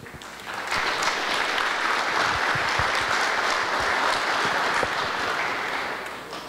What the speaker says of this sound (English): we have to applaud all those people who've been involved in making that effort